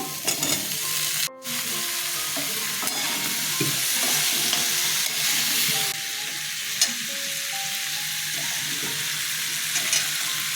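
Elephant foot yam (ol kochu) fries with salt in a pan, a loud continuous close sizzle with occasional stirring scrapes and clinks, and no one speaking.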